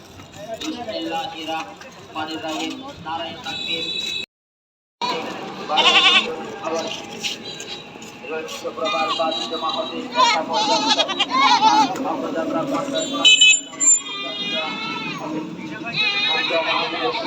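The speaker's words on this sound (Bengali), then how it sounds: "একসঙ্গে কতগুলা ছাগল" A crowd of goats bleating together, many overlapping cries rising and falling close by over a lively outdoor background, with people talking among them.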